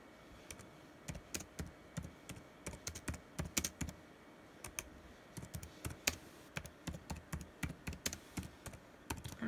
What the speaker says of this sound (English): And I'm typing something down.